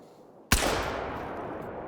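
A single Strandberg 10SA Executive shotgun blast in theHunter: Call of the Wild, a sharp loud crack followed by a long rolling outdoor echo that slowly fades.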